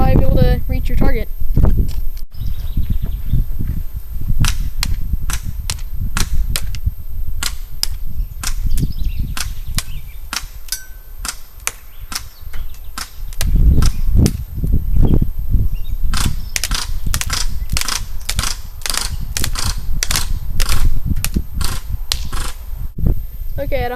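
KWA Mac11 airsoft gun firing at a target box from long range, sharp rapid snapping shots in bursts and strings, some fast automatic volleys, with a voice talking across much of it.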